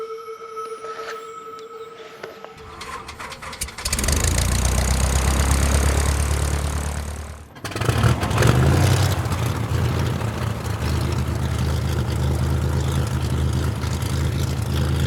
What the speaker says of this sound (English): Let's start up this rig.